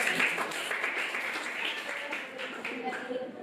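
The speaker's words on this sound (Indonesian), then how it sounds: "Oke, tepuk tangan kembali buat kelompok." Classroom students clapping for a student group after a presentation, a moderate burst of applause mixed with voices talking over it.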